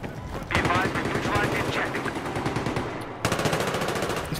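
Machine gun fire in a large-scale war video game, sustained rapid bursts that kick in after a short lull, with a second loud stream of shots near the end and a voice talking over the middle.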